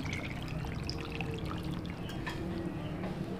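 One litre of water pours steadily into a cooking pot of mutton and cauliflower, a soft continuous trickle and splash, fairly quiet.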